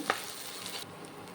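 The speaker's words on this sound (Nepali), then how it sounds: "बेसार हालेँ। अब यसलाई मिक्स गर्दैछु।" Turmeric is stirred into a sizzling pan of mashed potato filling, with soft continuous frying hiss and a faint scrape of the spoon, close and brief.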